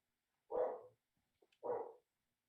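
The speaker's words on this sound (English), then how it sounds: "I have a crazy dog who barks at everything." A dog in a home office barks twice, about a second apart, moderately near and fairly faint, with silence between and after the barks.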